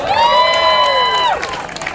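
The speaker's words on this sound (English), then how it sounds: "you guys can clap" A crowd at the 2019 Eureka Women's March rally cheers, with one loud, close, sustained whoop riding over the noise for about a second before it fades into a general crowd roar.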